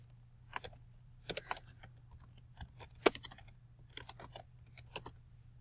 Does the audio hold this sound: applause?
no